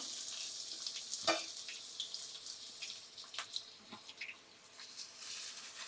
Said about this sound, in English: The oil is heated. I'm adding the onion.